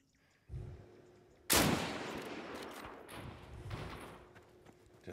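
Gunshots in the Deadside video game: a muffled shot, then a sharp loud report about a second later, leaving a long fading echo, with a quieter thump toward the end.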